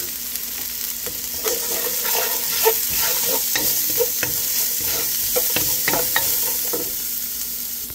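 Food browns in a hot pan with steady, close frying sizzle, broken up by intermittent scraping and clinking as it is stirred.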